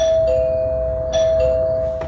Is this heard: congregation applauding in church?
no